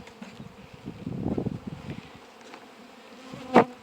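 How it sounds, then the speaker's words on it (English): Honey bees buzz around an open beehive, with a low droning hum that swells in the middle and a sharp, loud buzz close by near the end. "I have a bee on my camera trying to help me."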